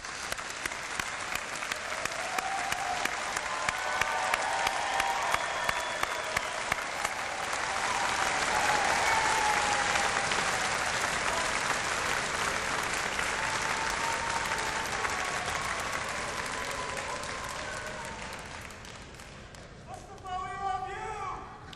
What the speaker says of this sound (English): I believe our newest class of graduates, they need a round of applause